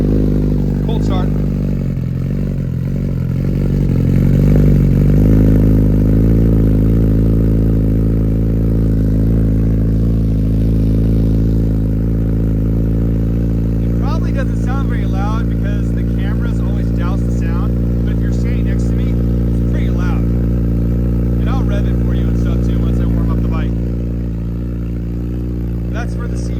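A 2023 Honda CBR 1000RR sport bike fires up from cold and settles into a steady, loud idle with a deep layered rumble close by, some clattering mechanical ticks and faint talk near the end.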